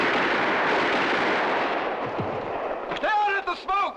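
A volley of gunfire booms in a vintage Disney war film about the Swamp Fox, a dense, rumbling barrage near at hand, then sharp voices shout over the fading roar.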